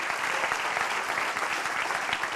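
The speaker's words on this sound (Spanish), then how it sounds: "dale un aplauso al Señor" A church congregation applauds, dense steady clapping from many hands filling the room, loud and continuous throughout.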